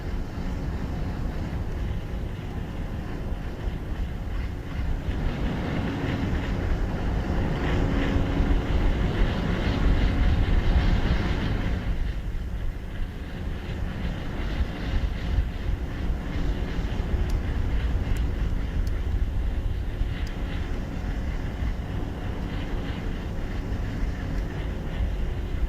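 Astra rocket engines roaring during ascent on the TROPICS-1 launch, a continuous broad rumbling roar with crackle that stays loud and steady throughout, with no voices.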